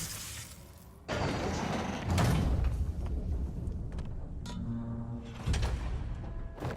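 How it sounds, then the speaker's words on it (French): A hidden door in Marvel's Spider-Man grinds and clanks open amid a heavy boom, with mechanical ratcheting, a sliding rumble and shattering debris, loud and close, ending in a low resonant thud. "Une porte cachée."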